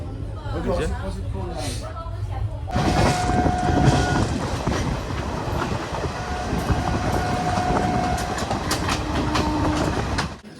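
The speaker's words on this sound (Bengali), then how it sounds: "ট্রেন ছাড়লো আর আমাদের জার্নি শুরু হলো" A passenger train rumbles along the tracks in West Bengal with a steady clatter and rattling, loud and close, with a horn-like tone sounding at moments and voices talking underneath.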